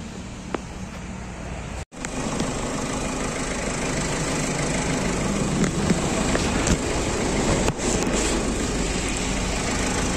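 Diesel engine of a Ford EcoSport TDI, just started after a timing belt replacement, idles with a steady close rumble and a brief dip near two seconds.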